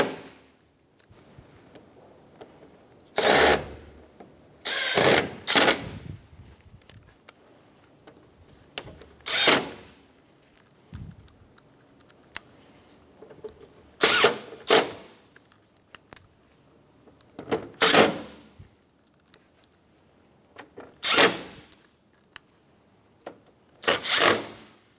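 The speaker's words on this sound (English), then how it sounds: "Install the Phillips head screws." Phillips head screws are driven into the AC condenser of a 2012-2020 Chevrolet Sonic in several short, loud bursts from a driver, separated by quiet pauses, with no talking.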